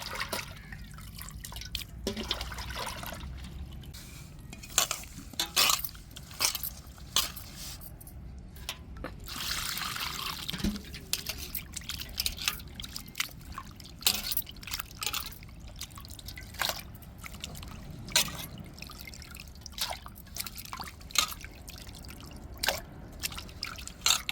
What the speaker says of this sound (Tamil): இந்த மாதிரி நல்லா உப்புக்களை போட்டு உரசி கழுவிடணுங்க